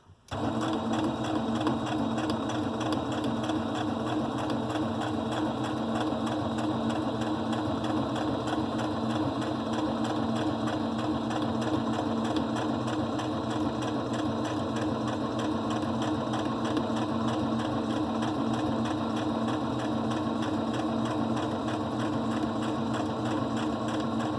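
A sewing machine runs at a steady, even pace while stitching a half-inch seam allowance along the shorter end of a needlework journal cover, its close, continuous whirring rattle unbroken for over twenty seconds.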